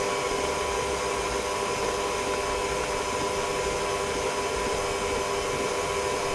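An electric mixer hums steadily at medium speed while beating chocolate eclair choux dough, a constant, even motor drone with no breaks and no voices.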